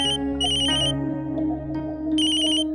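A phone ringtone plays loudly, a bright electronic melody in repeated bursts over a layered musical backing, with no one speaking.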